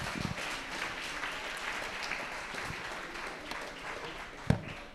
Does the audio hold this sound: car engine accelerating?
no